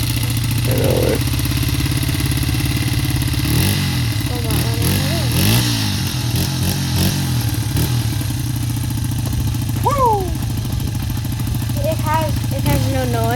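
The engine of a 1997 Honda XR100R dirt bike under restoration runs at a steady idle close by, a continuous buzzing drone, while people talk over it.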